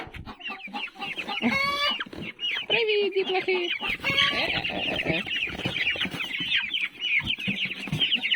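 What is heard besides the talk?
chicks clucking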